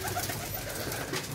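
Domestic pigeons kept by a hobbyist make soft, low cooing against steady background noise. The sound is continuous and moderately faint throughout the short stretch.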